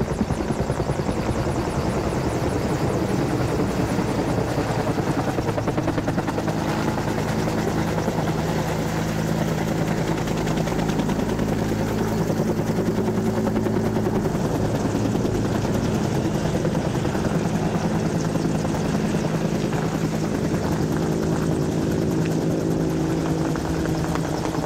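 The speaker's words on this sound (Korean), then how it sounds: "헬기 소리와 함께한 옹성산." A helicopter passes over Ongseongsan mountain in Hwasun, South Jeolla, its rotor thudding and engine roaring continuously and loudly throughout, with no voices.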